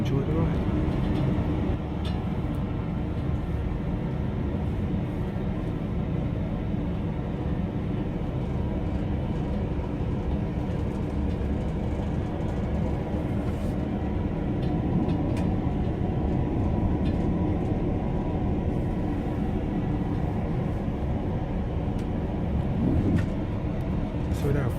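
A GWR train rolls between Basingstoke and London Paddington, heard as a steady low rumble and rattle from inside the carriage over about twenty-five seconds with faint clicks, as a person talks at times.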